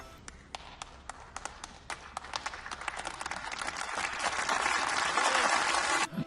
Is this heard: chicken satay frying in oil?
no